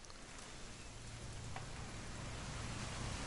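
Rain falls in What Remains of Edith Finch, a quiet, continuous hiss of drops with a low rumble underneath and no voices.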